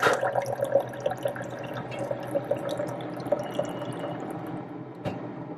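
A Keurig coffee machine dispenses hot water in a steady trickling pour with small drips and splashes, fairly close and alone with no talking.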